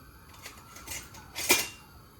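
A lid is set onto a pot of stewed peas with red kidney beans, giving a couple of light metallic clinks and one brighter clatter, close and brief over a quiet kitchen.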